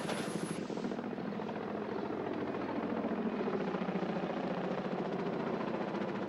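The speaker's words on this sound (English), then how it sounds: "The chopper heads back to the station." Helicopter departing toward its station, its steady rotor chop and turbine whine fading slightly as it recedes, faint and continuous with no voices.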